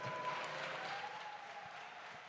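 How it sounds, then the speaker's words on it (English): Audience applause after a speaker's remark on stage, a steady wash of many hands clapping at moderate distance, fairly faint and even throughout, tapering slightly toward the end. "Clap it up for that."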